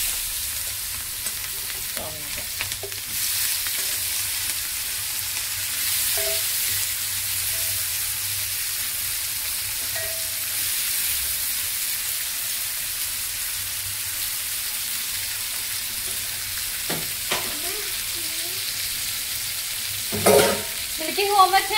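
Onions and green chillies fry in hot oil with a steady, close sizzle running throughout, broken by occasional scrapes and stirring clatter, louder near the end.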